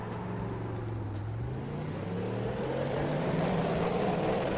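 A racing car in iRacing accelerates flat out on cold tyres, its engine note climbing steadily in a loud, continuous drone with rising pitch and no talk over it.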